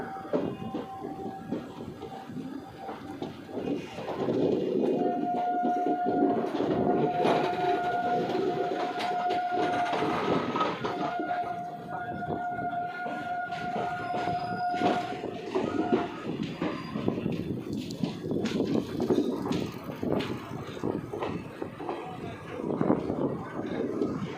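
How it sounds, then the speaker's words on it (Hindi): A train rolls on rails through a curve, a steady rumbling run with metallic wheel squeal tones rising and fading over it, heard from on board at moderate level. "तो कर्व देखिए, ट्रेन की जो कर्व ले रहा है वो"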